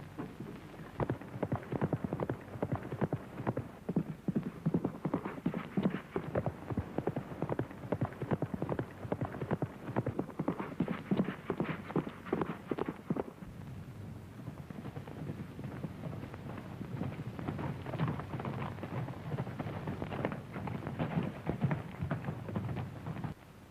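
Horse hooves clip-clop in a steady rhythm on a hard surface, continuing for a long stretch at a moderate distance.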